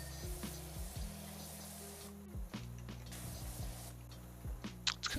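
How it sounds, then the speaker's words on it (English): A pressure washer in the video game PowerWash Simulator 2 sprays soap over rusty surfaces, a steady hiss that comes and goes in bursts while mechanical game tones and music play underneath. "Let's spray this off here, and we're gonna see if this rust comes right off or not with the soap"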